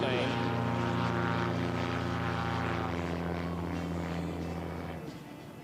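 A supercharged Rotax racing aircraft engine at an air race in Roswell, New Mexico, drones steadily with a strong buzzing tone that shifts in pitch midway and fades toward the end.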